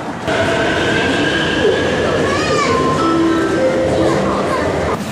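A subway train in a Shanghai metro station rumbles loudly and steadily, its brakes or wheels squealing in rising and falling tones, with faint voices underneath.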